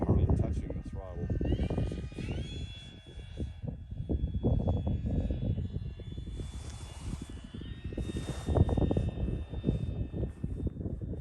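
An E-flite Draco RC airplane flies at low throttle, its electric motor whining in gently gliding tones that rise and fall, moderately near, while someone talks over it throughout.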